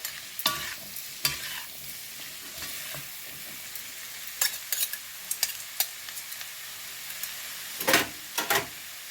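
Anise-spiced pumpkin cooks in a pan, with repeated scraping stirs over a steady soft sizzle. The sharp stirring clatters come in uneven bursts.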